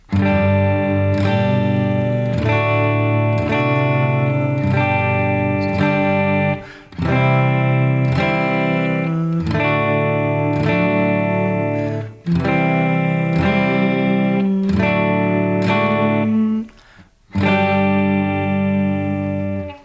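A run of sustained, distorted electronic chords played in repeated blocks, each held a couple of seconds with brief gaps between, loud and steady with no voices.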